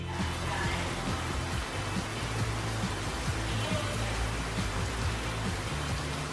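Steady heavy rain pours down outdoors on Jeju Island, a dense continuous hiss of drops striking the ground and nearby surfaces, with constant loudness for the whole stretch and no voices.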